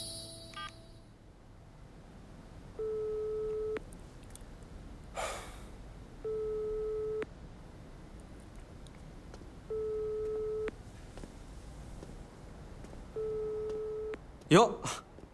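A telephone busy or ringing tone during a phone call, heard as four evenly spaced steady beeps about a second long, separated by quiet gaps, with a brief breath or snort near the end.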